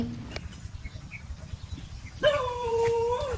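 A dog in a mango orchard gives a faint yip early on, then lets out a louder, drawn-out whining cry near the end over quiet background noise.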